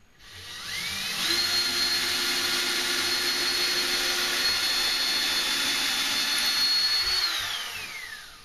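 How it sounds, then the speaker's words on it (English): A power drill whirs up, holds a steady high-pitched whine for several seconds under load while drilling holes for cabinet door pulls, then winds down; close and loud, no talking. "This time I'm using the drill"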